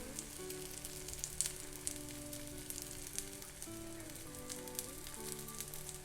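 Oil gently sizzles around a suji uttapam cooking in a pan, a soft, steady crackling hiss heard at low volume. A tonal melody plays faintly underneath.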